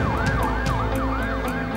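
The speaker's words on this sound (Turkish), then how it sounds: "ambulans sesini duyduğumuzda hepsi geride kalır ve yardıma koşarız" An ambulance siren wails loud and close in a fast, rising-and-falling yelp, repeating about every third of a second over a steady engine rumble.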